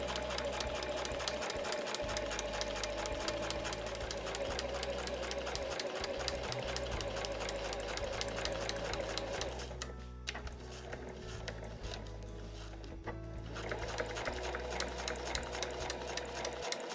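A home sewing machine stitches the closed seam of a one-piece tote bag in steady, fast mechanical bursts, loud and near, with a short pause partway before the stitching resumes.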